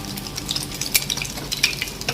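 Eggs frying sunny-side up in hot oil make a continuous bright crackle and spatter, with irregular pops and light utensil scrapes close by.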